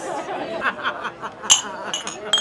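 Glasses clink in a toast at a stand-up comedy show, two or three light, bright chinks over ongoing chatter and soft laughter from people nearby.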